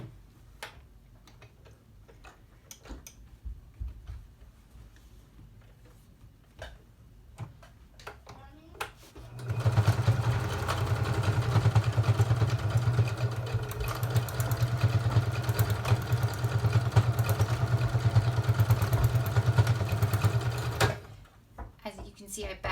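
A domestic sewing machine runs along the edges of a cloth face mask, a steady loud motor whir with a fast ticking needle for about ten seconds, preceded by quiet handling and talk.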